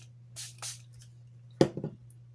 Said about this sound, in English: Take your spray and just spritz